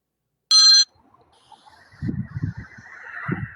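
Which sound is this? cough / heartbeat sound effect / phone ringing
phone ringing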